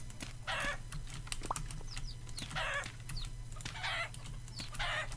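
Chickens clucking in the Vintage Story video game, several repeated bursts of clucking at a steady rhythm over a constant low hum, fairly close and moderately loud, with no talking.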